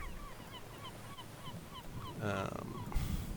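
Seabirds nesting on small, barren rocky islets with a few trees give a series of short, repeated calls at a moderate distance, followed by a brief louder rustling burst near the end.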